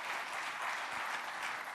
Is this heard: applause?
yes